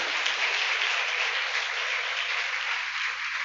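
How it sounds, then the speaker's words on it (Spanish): A church congregation applauds during a sermon, with a steady, even wash of many hands clapping that holds at a moderate level without pause. "Denle un aplauso a Cristo."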